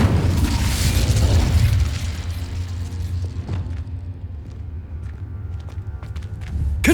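A Confringo explosion spell cast in the video game Hogwarts Legacy, with a loud rumbling blast that fades into lighter crackles and small pops, then a fresh burst at the end.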